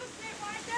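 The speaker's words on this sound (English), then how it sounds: "The wind's picking up." Strong wind roaring through a tornado storm in Tennessee, a steady broadband rush that swells louder toward the end.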